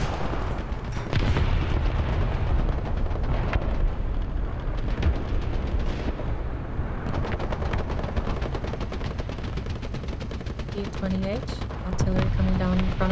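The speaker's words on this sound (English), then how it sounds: "Artillery coming down in front of me." Artillery shells landing in War Thunder on a small map, a dense stream of booming impacts and gunfire rumbling throughout, with a voice talking over parts of it.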